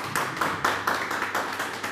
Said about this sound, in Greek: δώστε ένα μεγάλο χειροκρότημα